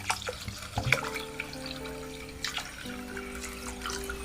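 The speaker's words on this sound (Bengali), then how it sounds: "এবার এর মধ্যে জল দিয়ে আমরা 10 মিনিট ভিজিয়ে রেখে দেব।" Water is poured into a bowl of washed rice for soaking, making faint splashing and trickling with a few brief louder splashes over a quiet background hum.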